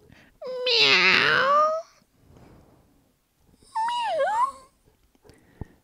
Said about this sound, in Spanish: Y el gato maulló.